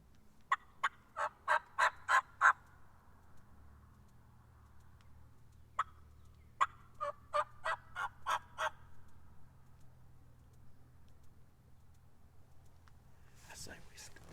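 Distant wild turkey gobbles ring out in two rapid bursts of repeated notes, then a single gobble, with faint whispering and quiet outdoor ambience on Kentucky public hunting land.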